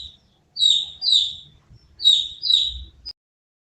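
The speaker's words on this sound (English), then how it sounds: "The chick says cheep cheep." Two pairs of high, clear chick cheeps sound close against a quiet background, followed by a brief final peep.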